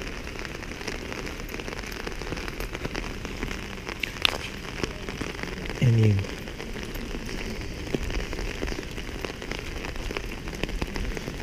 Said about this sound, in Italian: Peccato che oggi piove